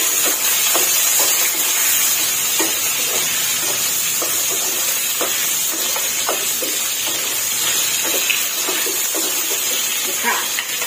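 Pre-fried tofu sizzles in a pan as it is fried briefly for a Thai five-spice egg and chicken drumstick stew, a steady loud hiss broken by frequent small pops and crackles throughout.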